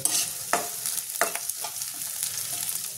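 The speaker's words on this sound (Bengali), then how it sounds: "দেখো পেঁয়াজটা আমার লাল করে ভাজা হয়ে গেছে।" Chopped onions with curry leaves frying in a pan for a Bengali prawn malai curry, a steady sizzle with a few sharp scraping stirs of a spoon through the pan, close and alone without talk.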